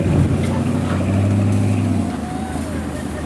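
An old tractor engine runs steadily and loudly at a tractor show, a low throbbing drone with a faint whine, with outdoor crowd noise.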